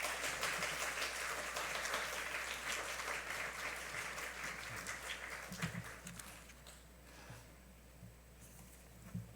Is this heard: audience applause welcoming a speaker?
yes